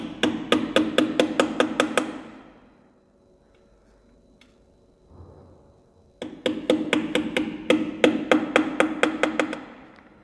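A hammer tapping balancing weights onto a wheel rim, two runs of rapid, evenly spaced metallic knocks, close and sharp, separated by a quiet pause of a few seconds.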